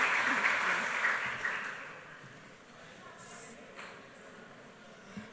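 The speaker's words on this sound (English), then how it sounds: "So please welcome him with a big round of applause." Conference audience applauding as a keynote speaker is welcomed: soft, somewhat distant clapping for about two seconds that fades into a quiet hall with a few small knocks.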